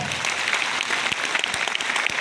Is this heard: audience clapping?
yes